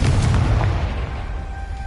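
A Confringo fire spell explodes in Hogwarts Legacy, a single loud booming blast that opens the clip and rolls off into a fading rumble.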